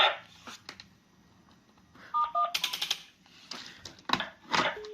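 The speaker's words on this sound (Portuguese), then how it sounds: "Se eu vier aqui no porteiro e digitar 212, por exemplo, eu já consigo comunicação." Someone dials 212 on the keypad of a CIP 850 electronic door intercom, producing a short run of close button clicks and brief electronic beeps in an otherwise quiet room.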